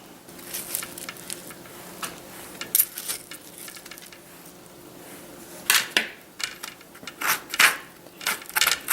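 A spoon scrapes baked spaghetti squash strands from the inside of the shell in short, scratchy strokes and clicks, irregular and fairly close, with quiet stretches between bursts.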